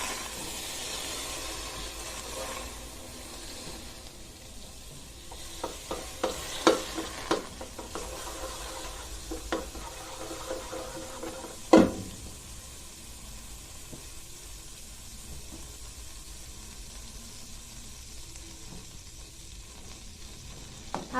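Butter melts and sizzles in a pot over the fire as the base for a sauce for salted fish served with plantain, giving a soft, steady frying hiss with a few sharp clicks and scrapes of stirring, close and without talk.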